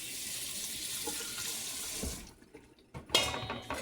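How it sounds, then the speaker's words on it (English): Tap water runs steadily into a kitchen sink as mushrooms are rinsed, then the flow stops and a brief splash and clatter follow nearby. "So I'm going to rinse this off."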